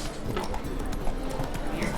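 A horse gallops in The Witcher 3, its hooves making a rapid steady clip-clop that is close and fairly loud throughout this short stretch, with a voice briefly heard over it.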